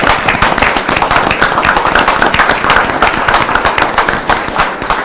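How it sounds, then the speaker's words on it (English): A city council meeting audience gives a loud, sustained round of applause for a local Alano Club. Dense, crackling clapping from many hands continues without a break from start to finish. "Can I have a round of applause for the work of the DeKalb Area Alano Club?"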